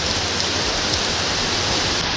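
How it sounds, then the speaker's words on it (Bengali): Steady heavy rain falls continuously, a dense even hiss with no talk over it. "সকাল থেকে বৃষ্টি হচ্ছে"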